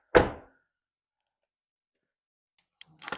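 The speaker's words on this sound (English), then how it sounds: "Shut the door." A single solid thunk of a C5 Corvette's car door shutting near the start, then silence, followed by faint clicks and rustling near the end.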